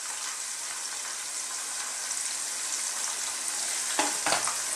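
Tomato, chilli, garlic, salt, black pepper and spices sizzle steadily in a pan, a constant close frying hiss with a couple of brief scrape-like stirs near the end and no talking.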